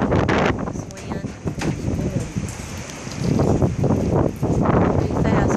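Strong, whipping wind during a tornado in Ellisville, Mississippi, loud gusty buffeting with rustling trees and a rain-like hiss that surges and eases, with voices mixed in.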